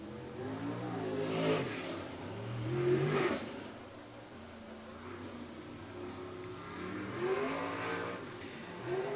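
Sprint cars race on a dirt oval at Coles County Speedway. Engines swell and fade as the cars pass, twice loud and then again toward the end, heard from a distance with faint crowd noise and some voices.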